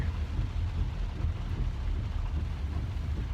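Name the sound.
heavy rain falling outdoors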